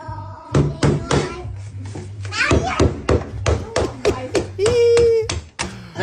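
Someone fixes a broken door with a steady run of sharp taps and knocks that repeat nearly every half second, close and fairly loud, while someone talks and chatters over the work.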